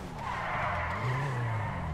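A car's tires skid under a handbrake in GTA V: a steady, loud screech with engine drone beneath, the pitch rising slightly partway through the two-second slide.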